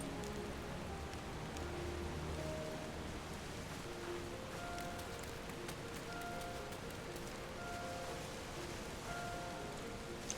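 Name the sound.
rain falling in Final Fantasy XIV video game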